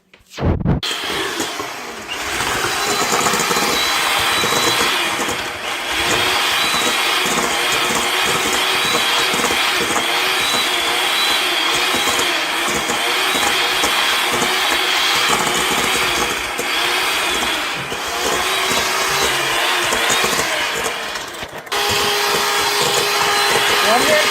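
An electric mixer creams butter and sugar for a nectarine buckle cake, running as a loud, continuous whirring drone that stops briefly near the end and then starts again. Talk is mixed in with it.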